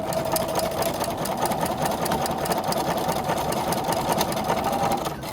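Sewing machine stitching pieces of a diamond quilt block, a fast, steady mechanical whir with rapid needle chatter. It runs close and continuous for about five seconds, with no speech.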